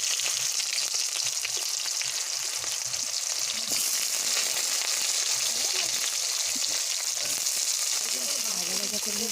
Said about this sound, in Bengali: আমরা পেঁয়াজ তেজপাতা ভাজা করে নিচ্ছি।